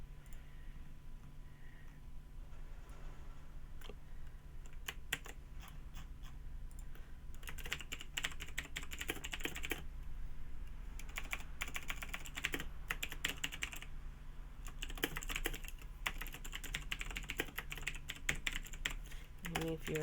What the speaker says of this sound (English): Me furiously typing.